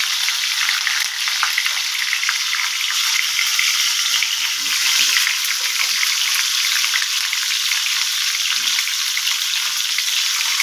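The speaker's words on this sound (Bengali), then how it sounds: "একটু ভেজে নিচ্ছি, তেলাপিয়া করে মশলাগুলো দিয়ে দিলাম" Tilapia fish fries in oil with spices. A steady, close sizzle with crackling pops continues without a break, and nobody speaks.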